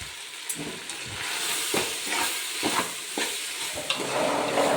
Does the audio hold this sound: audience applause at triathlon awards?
no